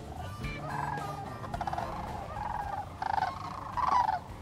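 Sandhill cranes flying in toward a decoy spread on a hunt call in bursts of rattling, bugling cries, several overlapping voices rising and falling at moderate distance.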